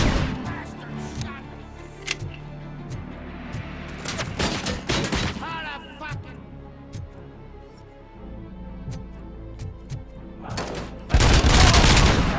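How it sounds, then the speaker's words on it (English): Default sidearm of RoboCop in RoboCop: Rogue City fired repeatedly in a first-person shooter, sharp bursts of gunfire with booming impacts and chaotic battle noise, ending in a loud roaring blast. "the RoboCop's basic gun is just"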